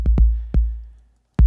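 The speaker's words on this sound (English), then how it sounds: "here's the kick, and like I said, it's a cross between an 808 and a" Drum machine kick, a Roland 606 tuned to sound between an 808 and a 909: four punchy, booming low hits with short clicky attacks, uneven in spacing and heard alone.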